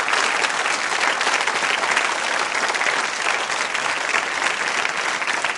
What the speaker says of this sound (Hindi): आप सबके तालियां इनके सम्मान में भी जोरदार बजाइए आप।